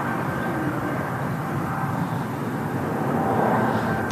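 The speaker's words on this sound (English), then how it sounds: "That EasyJet off to Athens" An EasyJet airliner departing Manchester Airport on a flight to Athens, a steady broadband jet roar heard from a distance, holding even and loud for a few seconds without talk.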